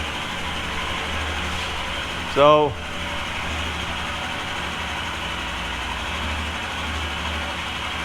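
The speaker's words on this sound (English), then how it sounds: "the cam profile causes that noise. It's a valve overlap noise" A Royal Enfield Himalayan motorcycle idles with a steady, even engine rumble and a light valve overlap clatter from a new cam, while someone speaks briefly near the middle.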